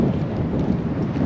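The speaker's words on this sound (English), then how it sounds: "the wind and the rain is picking up" Steady rushing noise of wind and rain outside the Highland Stirling Hotel, a dense hiss with low rumbling gusts, continuous and fairly loud with no voices.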